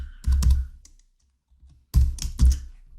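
Bursts of computer keyboard typing while a C program is written, two clusters of quick close keystrokes separated by a short pause, with no talking.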